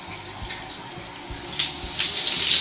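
Water spraying steadily from a RainO2 filtered shower head at higher pressure, a close continuous hiss that grows slightly louder toward the end.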